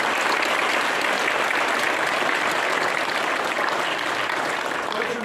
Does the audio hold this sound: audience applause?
yes